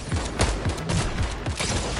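Rapid bursts of automatic fire from Snoop Dogg's drum gun in Fortnite, a dense, steady stream of shots running the whole time at close range.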